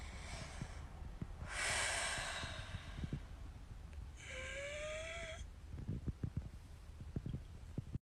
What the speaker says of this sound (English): try to listen to my breathing. Breathe out.